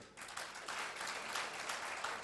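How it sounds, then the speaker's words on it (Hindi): A brief round of clapping from an audience at a religious discourse with Shri Girdhar Swami, quiet and somewhat distant, rising quickly and holding steady for a couple of seconds. "तो एक बार थोड़ी ताली हो जाए"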